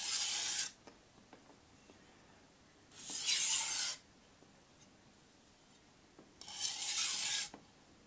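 An Itsu Doi gyuto kitchen knife is drawn in three long full strokes across a coarse Shapton Pro 320 grit whetstone, each a close, hissing rasp lasting about a second, separated by quiet pauses.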